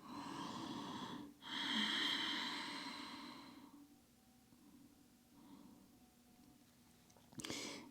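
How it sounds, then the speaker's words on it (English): Slow breathing in and out through the nose during a yoga session, with soft, close inhalations and exhalations and a breathy sigh near the end, heard alone without speech. "Breath in through the nose, breath out through your nose."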